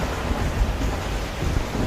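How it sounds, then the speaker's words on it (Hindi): Heavy rain pours in a dense, loud hiss with a low rumble of thunder beneath it, a short stormy burst for a Hindi moral story set in a forest. "और देखते ही देखते जोरदार बारिश शुरू हो जाती है।"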